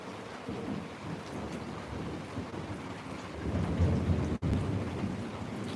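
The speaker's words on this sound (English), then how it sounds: "when that thunder goes off, it starts over there on the southeast side" Thunder rolls in a low, continuous rumble over steady falling rain, swelling louder near the end and broken once by a brief dropout, with no voices present.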